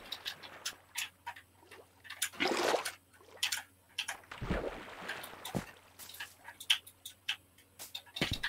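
Water sprays and splashes onto concrete blocks in the Minecraft survival game, heard as short bursts of gushing water among repeated crisp ticking and clicking game sounds.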